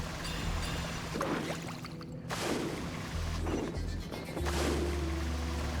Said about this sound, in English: More falling rocks.